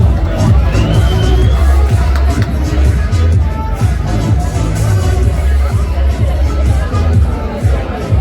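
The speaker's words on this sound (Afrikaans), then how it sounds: "Geef hulle lekker 'n klap." Crowd applauding and cheering for three heavy metals champions at a prize-giving, a dense, steady roar of clapping and voices that stays loud and continuous throughout.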